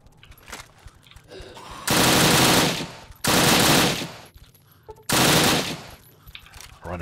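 Gunfire in the post-apocalyptic game Fallout 3 during a sewer fight: three loud sustained bursts of automatic fire, each lasting about a second, separated by quieter gaps with faint background activity.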